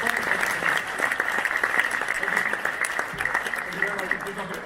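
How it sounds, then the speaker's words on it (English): A live talk audience claps steadily for five volunteers called to the stage, a sustained patter of applause with voices talking over it throughout. "Big round of applause for these 5."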